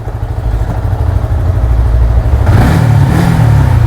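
A Kawasaki Ninja SS motorcycle engine runs loud and close, holding a rough, steady idle before it revs up harder partway through and stays raised to the end.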